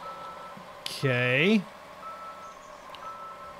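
In the Demolish & Build Company 2017 game, a concrete truck sounds a single loud reversing beep tone for about half a second amid quiet engine hum, with a brief spoken word.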